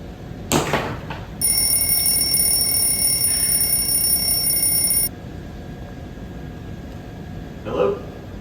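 Nokia mobile phone, dropped in a pet fish's bowl, ringing with a loud steady electronic tone for a few seconds against a hissy indoor background, with brief knocks before and after and voices heard in the scene.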